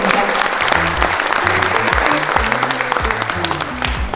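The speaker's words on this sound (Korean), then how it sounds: "여러분께서는 다시 한번 큰 박수 부탁드리겠습니다" Applause fills a hall at a brand ambassador ceremony for a fitness machine launch, steady and dense, with a voice speaking over it and low music beneath.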